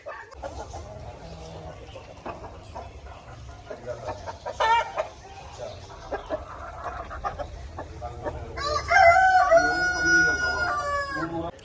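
Desi hens and roosters on a small home poultry farm cluck busily at close range, and a loud rooster crow rings out near the end, with some low background chatter.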